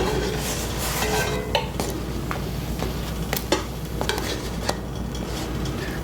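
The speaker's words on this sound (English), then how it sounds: "Let it cook on that side for just a few minutes until the chocolate melts" Quesadilla of tortilla with chocolate and s'mores filling cooking in a pan: a steady low sizzle runs throughout, broken by a few sharp clinks of a utensil against the pan.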